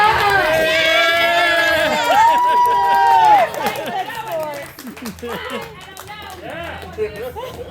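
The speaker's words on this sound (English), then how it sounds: "Give her a round of applause!" Audience at a live stage show cheering and shouting loudly, with only light clapping mixed in, then settling into noisy crowd chatter.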